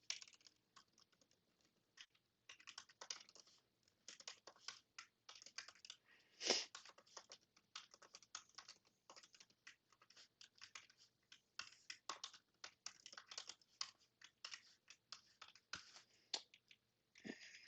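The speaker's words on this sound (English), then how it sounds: "And I'll also throw some Java code down here." Java code being typed on a computer keyboard: a long, steady run of quick, light key clicks in uneven bursts, close and fairly quiet, with one louder keystroke midway and no voices.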